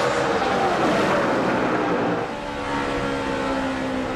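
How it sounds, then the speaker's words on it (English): A NASCAR Coors Light Dodge race car drives the track during a caution period at the 2005 UAW GM Quality 500, its engine a loud, steady onboard drone that dips slightly midway. "On board with Sterling. Coors Light Dodge"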